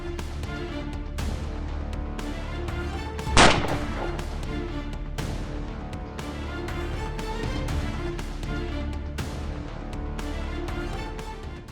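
A single sharp, loud gunshot cracks out amid steady outdoor ambience on a farm in Turkey during a wild boar hunt, with a few fainter distant pops scattered before and after.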